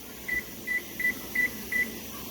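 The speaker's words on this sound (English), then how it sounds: "we're going to set our timer without burning ourselves" A kitchen timer beeps five times, short evenly spaced electronic tones, while a pressure canner vents steam in a steady background hiss.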